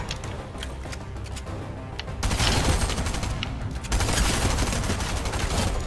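Rapid bursts of automatic gunfire in the video game Fortnite, a weapon with heavy recoil firing in sustained volleys that grow louder and denser partway through, without talk.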